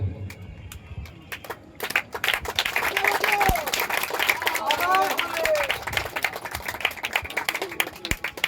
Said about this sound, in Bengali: আপনারা একটু করতালি দেবেন।